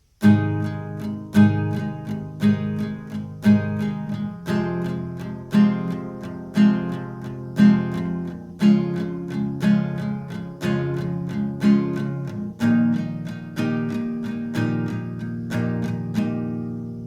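Acoustic guitar strumming a steady rhythm through the verse chords of a song, each chord struck twice in regular repeated patterns, clear and close with no voices.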